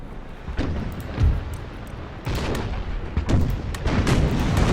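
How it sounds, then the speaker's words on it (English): Ship cannons boom during a naval battle in the video game Imperial Splendour, with several heavy, rumbling shots and blasts following one another over continuous battle noise. "More devastating shots into the enemy's bow."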